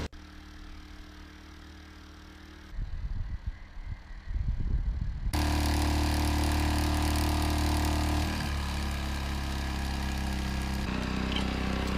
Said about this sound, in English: I tried driving with the generator running. After doing so, the generator went into idle mode.